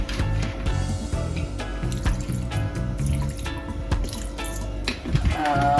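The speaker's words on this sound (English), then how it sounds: "Alright, some pork, and I have to wash it down properly." Raw pork rinsed under running water in a kitchen sink, with close splashing, dripping and handling noises flowing steadily throughout.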